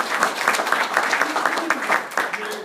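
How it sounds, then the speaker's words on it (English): An audience at an insurance training session claps for a new team member, a round of applause with distinct individual claps in a fairly close room and some talk mixed in over the clapping. "So give her a round of applause."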